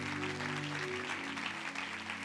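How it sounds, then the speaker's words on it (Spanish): Church congregation applauding during a sermon, a faint, distant wash of clapping with a steady low musical hum beneath it. "Dele un fuerte aplauso a Dios por eso."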